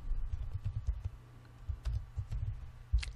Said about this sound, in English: And I'm going to type in a title.